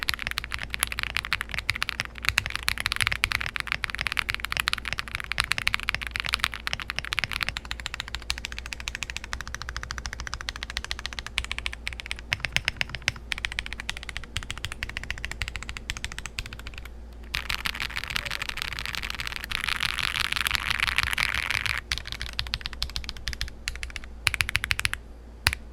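Mechanical typing on a Zoom65 V2.5 keyboard with taped flex cuts and plate foam but no case or PE foam, a steady, close run of rapid keystrokes sounding alone for the whole stretch.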